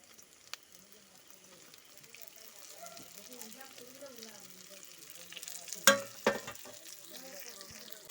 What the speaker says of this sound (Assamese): তিতা কেৰেলাখিনি দি দিম ইয়াতে